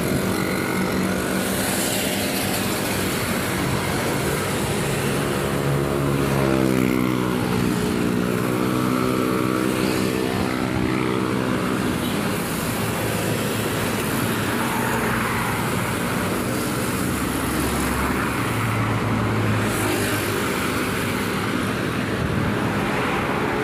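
A loud, constant roar of highway traffic, with vehicles rushing past close by and wind noise beneath, going on without a break.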